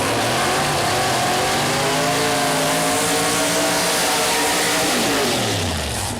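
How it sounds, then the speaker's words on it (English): Two Pro Mod door-slammer drag cars, one a Corvette, roar through burnouts at Mooresville Dragway, a loud continuous high-revving engine blare with rising and falling pitch sweeps throughout, easing toward the end. "Both cars complete the burnout across the racing surface"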